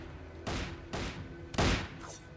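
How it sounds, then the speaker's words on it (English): Gunfire in Starbound: three separate loud, booming shots at uneven intervals, each with a short ringing tail, the last one the heaviest, over a low ambient hum. "I hear some shooting happening"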